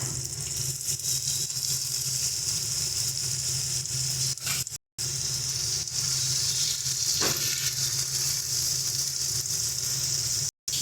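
Onion paste hits hot oil and spices in a pan for a Bengali-style prawn curry, a steady, close hiss and sizzle with a couple of brief drop-outs and a soft stirring scrape midway.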